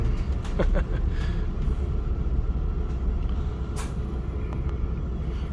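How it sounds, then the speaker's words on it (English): A free shuttle bus releases its air brakes with a sharp hiss amid steady engine rumble and street traffic, loud and close throughout. "The free shuttle bus service runs to and from the depot."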